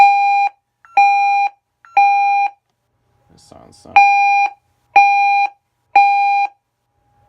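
Vista 10SE alarm panel fire siren through voice siren drivers: a loud electronic beeping tone in three half-second pulses, a brief spoken interruption, then three more identical pulses.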